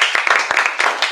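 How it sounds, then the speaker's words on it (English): Audience applause at a workshop keynote, a steady patter of hand claps filling about a second, moderately loud and close with no voices over it. "let's give them a round of applause"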